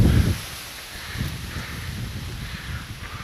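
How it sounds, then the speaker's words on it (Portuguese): Wind blows steadily outdoors at the top of a steep hill, a broad rushing hiss buffeting the microphone, with a stronger gust at the start and low rumbles throughout. "é o vento, cara. É uma maravilha"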